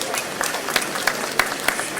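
Audience applause at the launch of the Produce for Lagos programme, a steady scattered clapping with sharper bursts, moderately near and sustained throughout.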